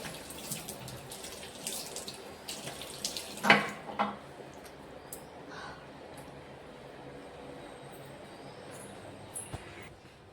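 Tap water running in a sink during face washing, a faint steady flow with a few splashes and handling knocks, quiet and close.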